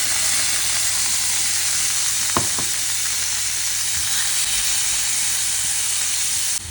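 Chicken pieces fry in a hot pan, giving a steady loud sizzle and hiss throughout, with a couple of brief clinks from stirring near the middle.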